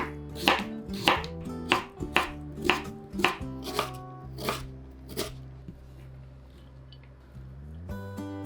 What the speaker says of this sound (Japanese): 人参もみじん切りにします。